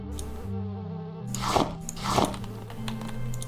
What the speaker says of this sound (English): I'm hearing a bee and I don't like that